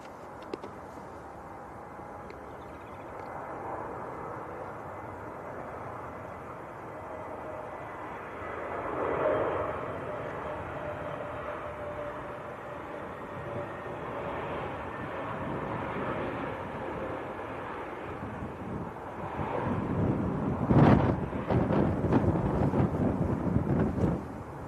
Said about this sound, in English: That was an A321neo from Istanbul.